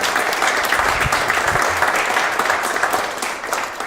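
A crowd claps steadily in sustained applause, a dense wash of hand claps that holds evenly and tapers slightly toward the end.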